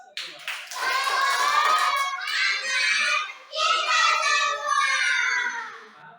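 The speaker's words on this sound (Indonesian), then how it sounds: "Oke, tepuk tangan untuk kita semua." Children in a classroom clap their hands together in a sustained, dense burst of applause, close and fairly loud, with a couple of short pauses between rounds and young voices mixed in.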